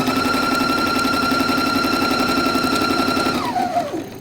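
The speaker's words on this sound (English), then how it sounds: "then I start sewing again" A sewing machine runs steadily and close up, stitching fabric in a fast, even whirr that slows and winds down in the last half second.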